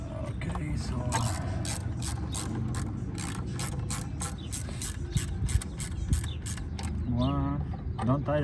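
Ratchet wrench snugging the oil cooler housing bolts on a 2015 Jeep Grand Cherokee Laredo 2WD 3.6L: steady, rapid clicking pawl strokes up close over a low background hum, with faint voices near the end.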